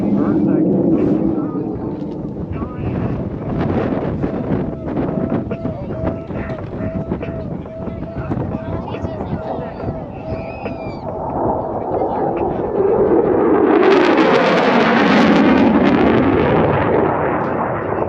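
An F-16 fighter jet roars past show center at an airshow, a loud rumbling pass that swells into a harsh, broadband blast near the end, with a voice commentating over it.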